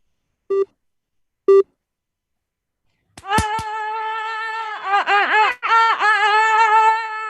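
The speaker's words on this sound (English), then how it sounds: "After the beep." A loud sustained electronic beep tone, rich in harmonics and wavering in pitch, starts about halfway through and holds steady to the end, preceded by two short isolated bleeps and a few sharp clicks during a digital arts workshop.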